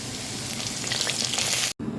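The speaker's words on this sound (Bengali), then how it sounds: "আলুটা এখানে একটু ভেজে নিচ্ছি তেল দিয়ে সুন্দর করে" Cubed potatoes fry in hot oil in a pan, giving a loud, close, continuous sizzle with a brief break near the end and no talking.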